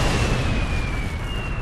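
Nuclear missile launch in Red Alert 2: a loud, sustained roaring blast with a falling whine running through it.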